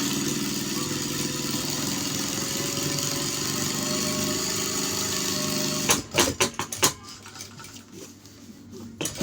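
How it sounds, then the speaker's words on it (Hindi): A sewing machine stitches a shirt collar with a steady, close motor drone for several seconds, then stops, followed by scattered clicks and handling clatter. "मैं इसके पैर की सिलाई लगा रहा हूँ।"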